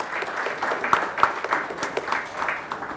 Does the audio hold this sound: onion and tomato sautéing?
no